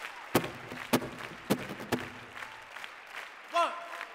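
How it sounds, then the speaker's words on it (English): Talent-show audience claps along in unison, four sharp, evenly spaced loud claps about half a second apart, then softer scattered sounds and a short voice near the end. "Start clapping like this."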